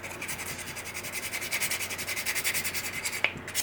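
A prop car part is hand sanded with quick back-and-forth strokes, a soft, rhythmic raspy rubbing that is fairly close and quiet, with a single small click near the end.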